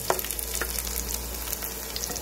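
Garlic fries in hot oil in a pan for a mutton dish, making a steady, close sizzle with light crackles throughout.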